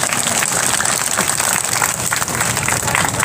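Audience at a Chhattisgarh political rally on farm laws clapping, a dense, continuous wash of applause at steady loudness with no voices standing out.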